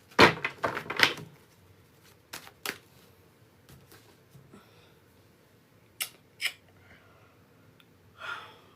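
Tarot cards shuffled by hand during a live reading, giving quick crisp riffling bursts in a dense cluster at first, then a few isolated flicks and snaps with quiet pauses between.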